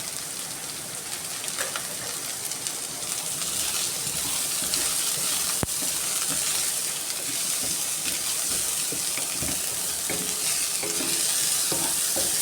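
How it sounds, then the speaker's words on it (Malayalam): Chopped onion sizzles and sputters steadily in a hot pan with ginger and garlic, a continuous bright frying hiss with occasional stirring scrapes and one sharp tick, close and fairly loud, no voice. "അത് ഒരു ചെറിയ മെറൂൺ ബ്രൗൺ കളർ ആവണ വരെ സവോള വാട്ടിയെടുക്കണം."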